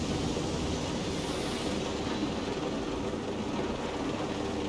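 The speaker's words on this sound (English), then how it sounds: "I'll just fly there. I'm already in the damn helicopter." A helicopter flies in the video game Ghost Recon Breakpoint, a loud steady rotor and engine roar that holds at an even level throughout with no other sounds.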